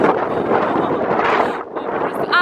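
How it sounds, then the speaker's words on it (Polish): Loud, blustery wind roars across the microphone of a riding motorcycle in Crete in a continuous rush, briefly dipping before surging again, close and dominating. "jest bardzo, bardzo silny wiatr, co na motocyklu też trochę utrudnia jazdę"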